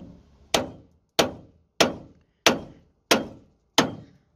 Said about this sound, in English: smack here with an hammer